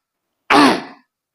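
A single short, rough throat clearing, close and fairly loud, lasting about half a second in otherwise silent surroundings.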